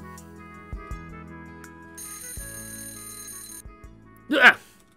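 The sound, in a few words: alarm clock ringing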